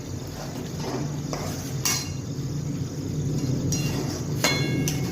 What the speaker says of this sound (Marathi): हळद टाकून घेते आपण आणि हे सर्व मिक्स करायचं व्यवस्थित